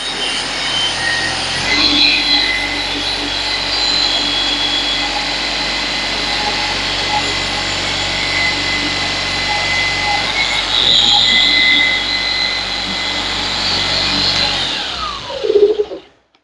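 A Maxshine M21 Pro paint polisher motor whirs continuously with a high-pitched whine on top, holding an even level before winding down and cutting off at the end.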